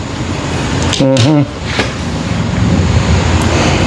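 Sea waves wash continuously with steady surf and wind noise throughout, a person speaking briefly over it near the start.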